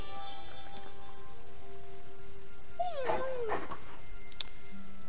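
Charlie the dog in the video game Midnight Suns gives a short, rising and falling whimper, close and moderately loud over a soft game background hum, with no talking.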